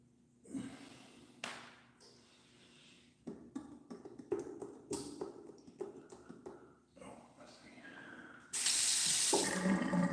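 A tap runs for handwashing, with scattered splashes and rubbing, then a loud steady gush of water near the end, close and without talk.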